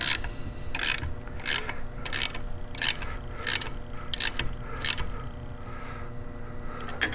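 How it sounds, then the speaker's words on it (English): Ratchet wrench tightening a nut on a motorcycle flywheel assembly during a street drag bike build, about nine sharp clicking bursts in a steady rhythm, loud and close over a low workshop hum. "we're going to come back and snug this nut just a little bit here"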